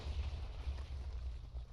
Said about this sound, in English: So the TNT cannons still work.